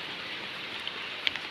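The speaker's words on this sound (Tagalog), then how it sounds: "Hindi pa naman masyado yung ulan." Light rain patters softly and steadily on a goat farm, a gentle hiss with a couple of brief drips standing out.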